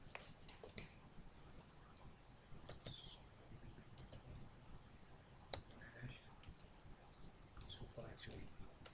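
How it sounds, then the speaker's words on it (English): Computer keyboard typing at a desk while working through an ICT exam task in a web page editor, quick irregular key clicks at moderate distance, with faint background noise and no speech. "So I'm going to type because I'm not able to write"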